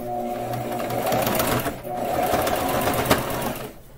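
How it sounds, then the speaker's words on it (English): Sewing machine running steadily while double-stitching around the edge of a surgical mask, a close, loud mechanical whir with a brief pause midway before the motor stops. "sew that all the way around, just to create a line of double stitching"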